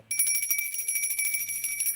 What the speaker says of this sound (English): I gotta ring the bell on that,